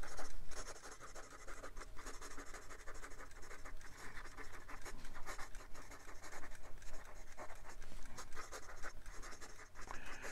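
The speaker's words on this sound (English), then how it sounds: "And some quick writing." A 1920s Sheaffer black hard rubber fountain pen writes quickly on paper, producing a close, continuous scratchy nib sound with rapid strokes and short pauses and no talking.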